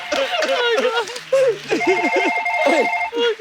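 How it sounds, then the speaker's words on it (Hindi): A phone rings with a tonal, melodic ringtone on a comedy talk show stage, partly buried under lively, overlapping talk and laughter. "मेरे को फोन आया, मैं उठा सकते हैं क्या है?"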